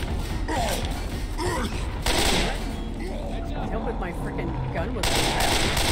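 Video game gunfire from Left 4 Dead 2, with repeated shots and sharp bursts over a steady rumble of game noise, while players talk throughout.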